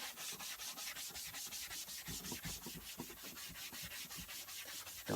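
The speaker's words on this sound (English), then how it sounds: "you can hear it dragging on the material" Steady rhythmic scrubbing of a Scotch-Brite sponge dragging back and forth over a leather or vinyl car seat, close and continuous with quick repeated strokes, alone.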